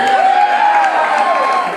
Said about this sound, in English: Let's get a round of applause for Holly